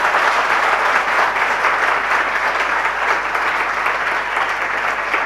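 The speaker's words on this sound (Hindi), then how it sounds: "यदि शक नहीं है तो दोनों हाथ खोल के ताली बजाना" A large audience at a religious discourse claps loudly with open hands in a sustained, even wash of applause that continues without pause or voices.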